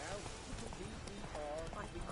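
Roach the horse gallops in Witcher 3, a quick rhythmic clip-clop of hooves under a voice, with a short whinny partway through.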